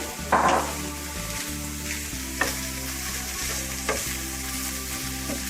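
Rice, chicken and mushroom stirred together in a frying pan: a steady sizzle runs under several scraping spoon strokes, with a louder clatter near the start and a low hum throughout, no talk.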